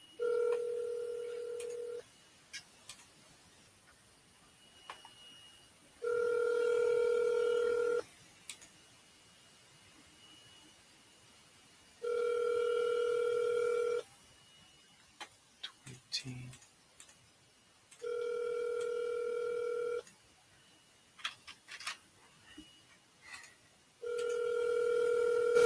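A telephone ringback tone from a double-dialed call repeats as long, steady tone bursts about every six seconds, with clicks and quiet talk between the rings.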